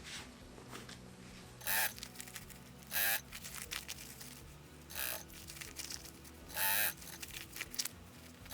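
A sewing machine stitching the side seams of a fabric bucket bag, several short bright whirring bursts separated by pauses, close and fairly quiet.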